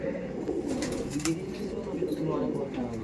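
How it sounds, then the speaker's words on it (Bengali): A female pigeon, a flying breed kept by a fancier, coos softly and steadily close by, the low murmuring blending with a constant rumble and scattered bird sounds. "এটা ছিল মাদি পায়রা"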